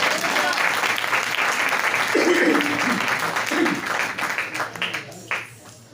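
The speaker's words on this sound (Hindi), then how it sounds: "जोरदार तालियां" A church congregation at a Sunday service breaks into loud, dense applause that swells and then thins out toward the end, with voices calling out over the clapping.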